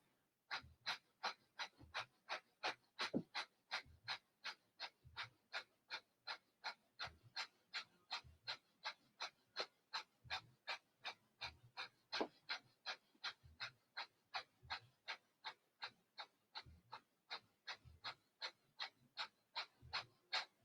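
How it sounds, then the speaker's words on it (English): Rapid yogic fire breathing during a yoga class: quick, forceful rhythmic breath pumps repeat steadily for about twenty seconds, evenly spaced, close-miked but fairly soft, with no talking. "Quarter breath in and a fire breath."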